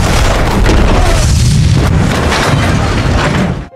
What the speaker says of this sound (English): the oil field erupted in a massive explosion